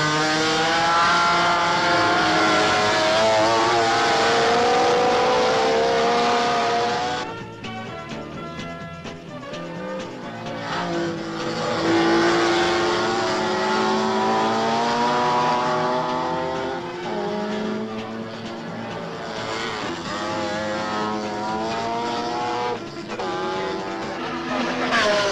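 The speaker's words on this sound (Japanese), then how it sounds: "SG コーナーをスカイラインがトップグループとなって走り抜けます。" Nissan Skyline GT cars in a 1999 JGTC race at Fuji Speedway scream through a corner, loud overlapping engine notes rising and falling as the pack passes, with brief tire squeal and crowd-distance roar.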